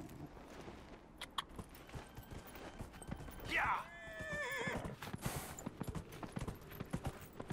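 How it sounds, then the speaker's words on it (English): A horse in the Dragon Age Inquisition video game gives a loud, close whinny, with a steady clip-clop of hooves and small jingling tack sounds before and after it, as a person talks over parts of it. "Let's use the horsey. We have not used the horsey for a while."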